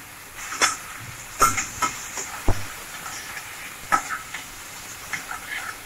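Carrots frying in a pan for masala pasta, with a low sizzle under several sharp scraping stirs and clacks of a spoon against the pan, spaced irregularly and close by.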